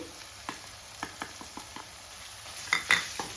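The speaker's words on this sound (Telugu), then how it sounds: "2 స్పూన్ల ఉప్పు వేసి బాగా మెత్తగా అయ్యేంత వరకు ఫ్రై చేయాలి" Chicken liver and tomato frying in a pan, a soft sizzle under a series of scraping and tapping spatula strokes, with a louder clatter toward the end.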